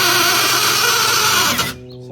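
A Bauer 4V cordless screwdriver drives a screw into a pre-drilled hole with a loud, close motor whir that cuts off abruptly near the end.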